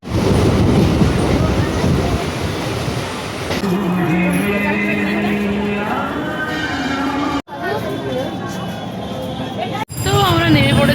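A rail journey near Naihati and Kanchrapara, with a loud, steady rumble of train wheels and carriage noise, then a quieter stretch with tonal squeals and clicks, while people talk over it.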